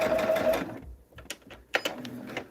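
A sewing machine stitches a Hunter Star quilt in short bursts of fast whirring and clicking, starting and stopping close by, with a few quiet handling sounds between runs.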